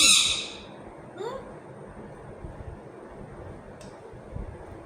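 Pico, a pet bird, lets out one loud, close squawk at the start, then only faint indoor background remains, with a couple of small chirps or clicks.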